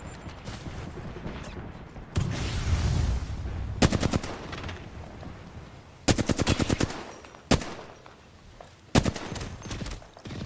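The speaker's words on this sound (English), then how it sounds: "Shots fired, and they're hitting me." Gunfire in the video game Apex Legends comes in several loud, close automatic bursts, rapid rattling volleys separated by short pauses, along with a single sharp shot and a rushing burst of noise early on.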